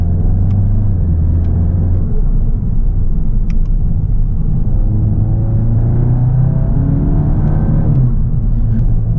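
A 2022 Volkswagen Golf GTI Clubsport MK8 climbs a hill climb, its engine a loud, close, continuous rumble from inside the cabin with shifting pitch as it accelerates.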